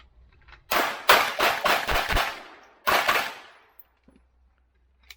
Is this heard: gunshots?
yes